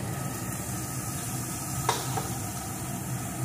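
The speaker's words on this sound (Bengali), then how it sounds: "এখন সমস্ত কিছুকে ভালো করে ভেজে নেব" Grated potato and carrot fry in a pan with salt and turmeric, giving a steady, close sizzle with light stirring scrapes and one brief louder clatter near the middle.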